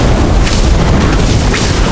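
Incendio fire spell cast in the Harry Potter: Magic Awakened video game, a loud, dense whooshing boom with crackling fiery bursts filling the whole moment.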